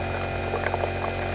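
A 1996 Elektra La Deliziosa T1 espresso machine runs water in a steady, continuous gurgling flow with a faint electrical hum underneath, close and alone.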